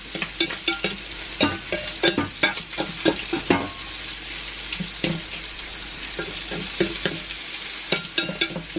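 Sausage and bacon bits sizzle steadily in a cast iron pan, with a utensil scraping and stirring in irregular close clinks and scrapes over the constant frying hiss.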